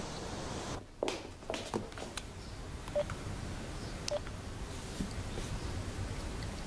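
A telephone number is dialed in a quiet room, a series of short beeping tones spaced out over several seconds, faint and close, with light shuffling and no voices.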